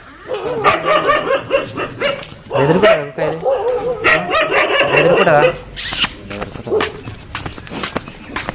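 A dog barks and yips repeatedly nearby, loud and insistent, while a person talks over it.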